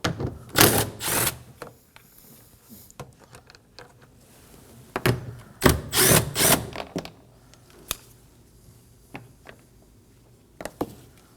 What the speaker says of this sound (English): Using a 10mm socket, go ahead and remove them.